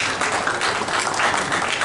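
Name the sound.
applause for Mr. Arif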